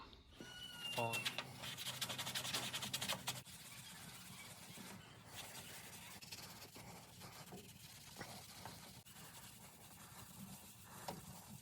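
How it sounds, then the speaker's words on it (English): Steel wool rubs oxidation off a chrome bumper on a Chevy K1500 diesel truck, a close, soft scratchy scrubbing in repeated strokes, louder at first and then fainter and intermittent. "Steel wool will shine up chrome. So there's a lot of oxidation on this bumper"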